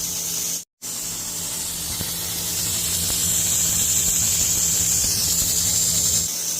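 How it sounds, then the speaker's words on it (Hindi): Steam hissing from a pressure cooker on a solar stove, a steady broadband hiss that holds constant for several seconds, briefly cut out near the start, then continues at an even, moderately loud level. "कुकर ने जो है आवाज़ स्टार्ट कर दिया है"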